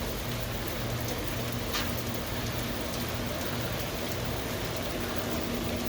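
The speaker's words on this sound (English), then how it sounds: "got here just in time for the rain." Steady rain falls continuously with a dense hiss and scattered drop patter, with a low hum underneath throughout.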